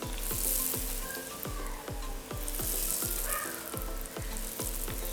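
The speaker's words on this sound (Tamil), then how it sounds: "இப்போ நாங்கள் ஆட்டா மாவு பூரியை பொரிப்போம். நீங்கள் மேலால் எண்ணெயை ஊற்ற ஊற்ற பொங்கும்." Atta flour puris deep-frying in hot oil, a steady close sizzle with a regular run of soft ladle taps as oil is poured over them.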